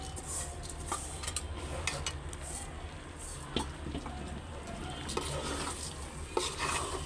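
Rice is stirred and fried in a pot for homemade biryani, giving a soft, steady sizzle broken by scattered scraping clicks of a spoon against the pot.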